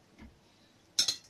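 A spoon knocks against a pot while ground pepper is stirred into aubergine and butter bean soup: two quick metallic clinks close together at the end, after near silence.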